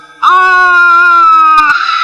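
A man screams in a comedy sketch, one loud, sustained, wavering cry held for about a second and a half that breaks off sharply near the end, close and dominant.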